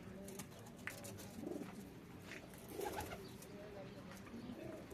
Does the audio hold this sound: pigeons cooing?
yes